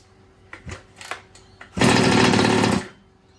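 Small engine on a Baja minibike sputters with a few weak pops, then catches and runs loudly for about a second before dying out.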